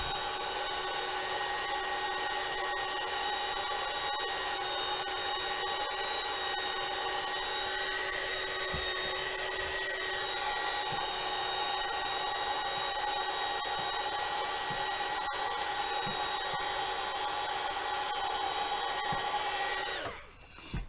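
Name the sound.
heat embossing tool blowing hot air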